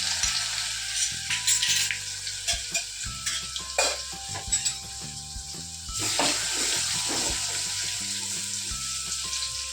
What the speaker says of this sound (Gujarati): અડધી ચમચી હિંગ નાખવાની, ગેસ સાવ ધીમો કરી અને પછી આ જે લસણ છે એને નાખી દેવાનું